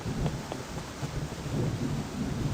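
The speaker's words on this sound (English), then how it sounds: "It's raining. It's going to rain all day." Rain with low rumbles of thunder from the video game Blind Box Shop Simulator, a steady wash of rainfall under soft, rolling low booms, fairly loud and with no voices.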